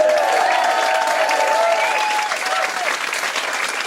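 Comedy club audience applauding steadily for a few seconds, a dense, fairly loud wash of clapping with some crowd noise mixed in, fading slightly toward the end.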